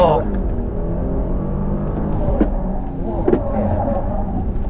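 An Audi RS with quattro drive is pushed hard on a test course, its engine roaring steadily and close from inside the cabin, with loud talk running over the top.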